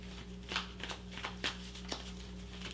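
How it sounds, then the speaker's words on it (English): Tarot cards are shuffled by hand, giving a soft, riffling rustle broken by a few sharper snaps and taps, close and fairly quiet over a low steady background hum. "let's get a couple more shuffles here."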